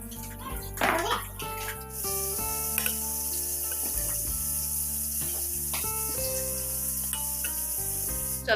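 Fish fries in a pan with a steady, close sizzle that hisses throughout, alongside kitchen clatter and someone talking over it, with a voice in the background.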